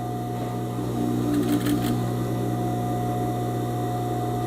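A domestic sewing machine runs steadily, stitching a fine rolled handkerchief hem on a straight skirt with a ruffle, a continuous close mechanical whir with a low motor hum throughout.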